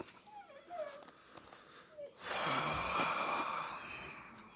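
A dog whimpers in a few short, high whines, followed by a louder burst of close snorting and scuffling that may be the same dog.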